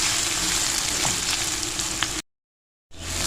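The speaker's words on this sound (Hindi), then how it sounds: "अब हमने इनको अच्छे से भून लेना।" Chicken pieces with spices, including black pepper powder, fry and sizzle in oil in a karahi, giving a dense, continuous crackle with small pops. The sizzle briefly drops out completely before resuming.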